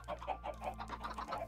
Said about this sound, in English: Or is that when a new chicken spawns?